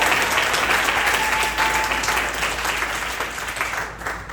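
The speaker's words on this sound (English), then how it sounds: "yes, you should clap" Steady crowd applause at a campaign gathering in a Black-owned business in Philadelphia, dense clapping throughout that slowly eases toward the end.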